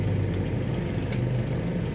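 A KIA car engine idles during a stop-and-go test of a manual transmission fitted with a shift assist, a steady close low rumble without a break.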